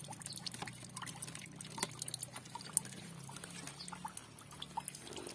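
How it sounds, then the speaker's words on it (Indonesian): Water flows into a guppy breeding pond in a soft, continuous trickle and patter, faint and close, with small irregular splashes and no talk. "kita alirkan air seperti ini, teman-teman. Nah, ini ada air, ya, air mengalir. Jangan terlalu deras"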